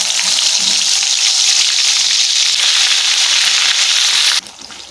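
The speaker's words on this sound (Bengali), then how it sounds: "এবার এই মশলাটাই এই তেলের মধ্যে, সাদা তেল দিয়ে দিয়েছি কড়াতে" Ground spice paste fries in white oil in a kadai with a loud, dense, continuous sizzle and occasional stirring scrapes, then drops abruptly to a much quieter hiss near the end.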